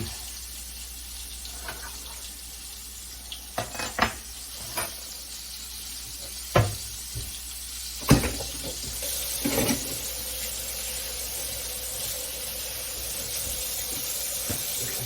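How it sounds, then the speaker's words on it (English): Hands washed under a running kitchen sink tap, a quiet steady hiss of flowing water with a few sharp splashes and clinks from handling, no talking. "Hands another quick wash."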